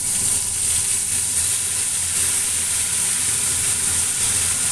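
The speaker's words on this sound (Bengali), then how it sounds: "পেঁয়াজ বাটাটা তেলে দিয়ে দিব" Onion paste frying in hot oil for doi katla, a steady close sizzle with a bright hissing spray and no pauses or talk.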